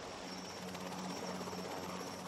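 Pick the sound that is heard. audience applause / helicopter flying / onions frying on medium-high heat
helicopter flying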